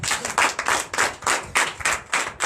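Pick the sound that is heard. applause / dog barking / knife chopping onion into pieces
applause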